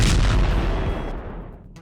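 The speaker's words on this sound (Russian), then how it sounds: "После успешной постройки пушки мы с нашей командой парней из клана Верховный Комитет начали обстрел спавна" A TNT cannon in the blocky PlanetCraft (Planet of Cubes) game fires at a spawn area, giving one loud, heavy explosive boom with a rumbling tail that slowly fades, and no talk.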